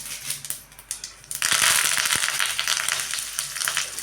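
Curry leaves with mustard seeds, cumin and asafoetida hitting hot oil for a bitter gourd gojju, opening with scattered pops and clatter, then bursting into a loud, bright sizzle with crackling spatter that stays up close.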